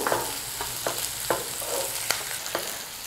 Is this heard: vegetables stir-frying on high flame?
yes